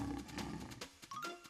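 A lion lets out a short, deep roar, a close, loud growling rumble that swells and then breaks into a few grunting pulses before fading.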